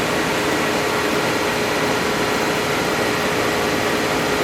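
Myford MG12-HPM OD grinder head traversing back out, a steady, loud, even mechanical whir and hum that holds constant from start to finish with no voices.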